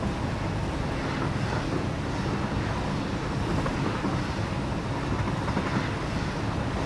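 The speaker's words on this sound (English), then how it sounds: "Train seems loud today." A train in the factory-building video game Satisfactory rumbles loudly and continuously, a dense, steady roar with no talking over it.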